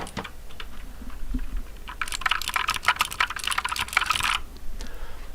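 Rapid clacking bursts of typing on a mechanical keyboard with blue switches, crisp close clicks clustered in a dense flurry mid-clip after a few scattered keystrokes, no talk.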